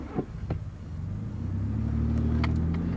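A Ford car engine set to eco mode starts up, a brief crank and hesitant catch settling into a steady low idle rumble that builds and holds close by, with faint clicks over the top.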